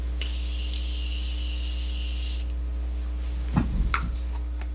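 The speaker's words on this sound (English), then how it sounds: "All right, now we spray it." A steady aerosol makeup setting spray hisses for about two seconds, followed by quiet and a few soft handling knocks, over a constant low hum.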